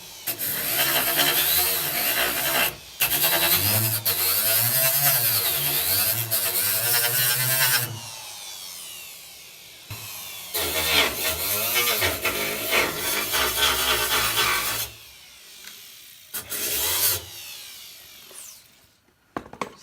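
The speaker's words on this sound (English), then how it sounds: "So you want to press pretty hard on it when you're doing this so that you'll flex the flap disc" A flap disc on a grinder works down welds on the rust-repaired body metal of a 1990 Nissan 240SX, with loud close rasping bursts that rise and fall and stop in short pauses between passes.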